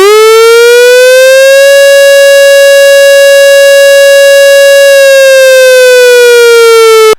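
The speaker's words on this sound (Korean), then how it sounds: "훈련 공습 경보를 발령합니다." A civil defense air raid siren sounds during a drill at an elementary school in Goheung, South Korea, its loud wailing tone rising, holding steady for several seconds, then falling, with no voices.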